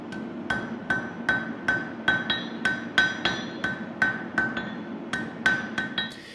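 A hammer strikes hot steel while forging a barbecue knife preform, ringing out in about sixteen sharp, evenly spaced metallic blows, loud and close with a low background hum.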